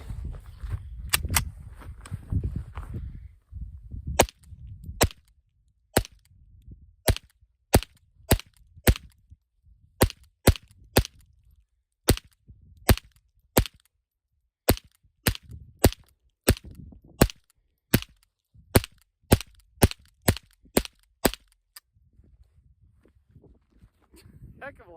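A Ruger 10/22 .22LR semi-automatic rifle fires a long string of sharp, snappy shots at a steady quick pace, each crack distinct, after a stretch of low rumbling handling noise and faint talk at the start.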